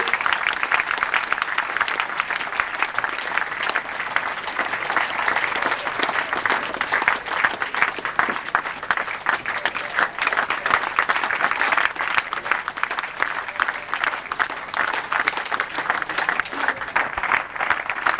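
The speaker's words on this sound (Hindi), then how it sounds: "तालियों के साथ पूरा" Sustained applause from an audience at a 1998 Holi spiritual camp festival, welcoming a guest and his wife for a garlanding, steady dense clapping throughout at moderate loudness with no talk over it.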